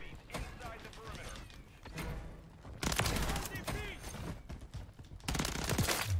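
In Call of Duty MW3 multiplayer, sharp bursts of shotgun and rapid weapon fire come in clusters, with heavy blasts near the middle and end while a player talks over the action.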